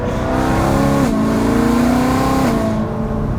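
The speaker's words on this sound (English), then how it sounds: "Have you ever done the double downshift?" A BMW E92 M3 engine revs loud and close during a double downshift, its steady high-revving tone blipping upward twice before dropping away near the end.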